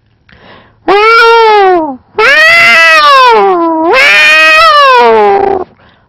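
A voice imitates two cats fighting as part of a one-man comedy show: loud, drawn-out yowling wails in three long bursts that rise, bend and fall, close and alone.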